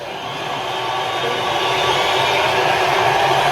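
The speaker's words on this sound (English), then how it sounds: "Sorry about the crowd noise, it's just my survival mechanism." A dense wash of crowd noise, cheering and roaring steadily without pause, loud and sustained throughout.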